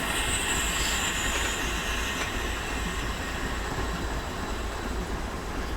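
Union Pacific ES44AC diesel locomotive in a Train Simulator recreation of Sherman Hill, a steady rumbling engine drone with rail noise holding even and loud throughout, no voices.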